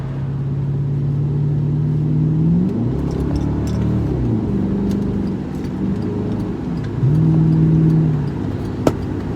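A 2003 Lincoln Town Car with muffler and resonator removed revs up and down several times under light throttle taps, deep rumbling blips rising and falling, loud and open, with no voices.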